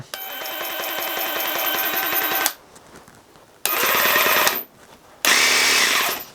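A jigsaw buzzes loudly in three separate bursts with short pauses between, a harsh rapid rattling hum as it cuts, then stops.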